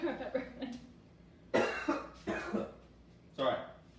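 Several loud, close coughs in short bursts from a person in a home kitchen while cooking crab-crusted cod, with speech-like throat noises between them.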